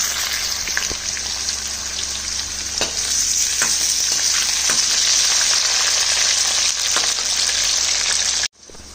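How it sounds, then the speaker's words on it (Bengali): Cut potato pieces fry in hot oil with fenugreek seeds and a pinch of asafoetida, a steady close sizzle with faint crackles and stirring taps throughout, ending abruptly. "সেই জন্য আমি সঙ্গে সঙ্গে দিয়ে দিলাম এতে কেটে রাখা আলু টুকরো কটা"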